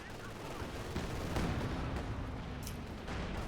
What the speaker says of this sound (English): It's a barrage.